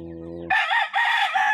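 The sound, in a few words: rooster crowing and chickens clucking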